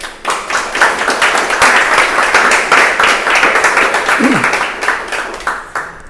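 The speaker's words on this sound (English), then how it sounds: "Everybody give a round of applause to McKay Otto." An audience applauds artist McKay Otto at an art talk, with dense, loud clapping rising quickly and sustaining for several seconds before tapering off near the end.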